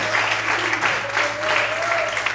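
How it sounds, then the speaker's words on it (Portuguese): A church congregation applauds in a steady, moderate patter, with a voice and a sustained tone carrying over the clapping throughout. "Aplauda o Senhor Jesus"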